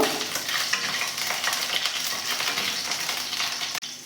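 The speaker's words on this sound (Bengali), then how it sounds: "এবারে তেলটা গরম হয়ে গেছে এর ভেতরে আমি কালো জিরেটা দিলাম কাঁচা লঙ্কাগুলো ফাটিয়ে দিয়ে দিচ্ছি" Nigella seeds and split green chillies frying in hot oil, a continuous close sizzle with light crackles and a sharp stirring clack near the end, no voices.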